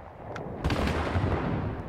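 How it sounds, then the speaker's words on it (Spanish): A deep, rumbling blast of cannon fire booms and echoes, heavy low thuds rolling on continuously with no voices. "Esos cañonazos nos hacen retroceder un poco en el tiempo"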